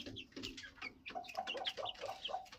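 A flock of young chickens, including Isa Browns and silkies, clucks and peeps in a new coop, with a steady overlapping chatter of many birds close by and no talk.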